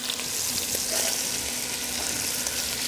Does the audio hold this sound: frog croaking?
no